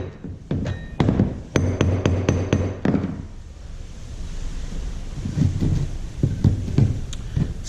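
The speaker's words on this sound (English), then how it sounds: "I won't hammer it any more than absolutely necessary to slide in there" A quick run of sharp metallic hammer taps on a 1947-72 Chevy or GMC truck door hinge pin rings out near the start, then gives way to a broad rushing, wind-like noise with a few scattered knocks.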